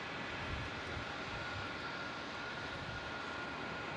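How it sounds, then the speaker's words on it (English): A Jetstar Airbus A320 arriving from Newcastle at Melbourne Airport gives a steady, faint, distant broadband engine roar that holds level and continuous with no voices. "your next one in is Jetstar 475 from Newcastle with an A320"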